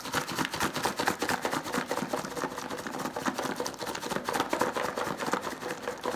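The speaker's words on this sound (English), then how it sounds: "there's some hard chunks in my onion powder that need to be broke down." Rapid, dense crunching and tapping as hard clumps of onion powder are crushed and broken apart in a container, steady and close throughout.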